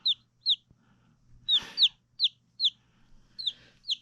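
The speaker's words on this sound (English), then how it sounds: "these are a mix of Barnevelder and Wyandotte, and I have 3 Silkies" Barnevelder and Wyandotte chickens cluck nearby in a steady series of short, bright calls, roughly two per second, with a brief rustle midway and a quiet background.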